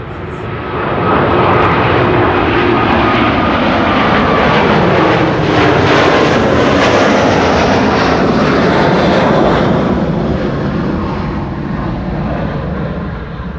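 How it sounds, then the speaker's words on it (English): An Airbus A350-1000 rotates on takeoff from Amsterdam Schiphol's Kaagbaan runway, its engines a loud sustained roar close by that holds steady and eases slightly near the end, with no one talking. "the A350 is already coming. There it is, rotating as well."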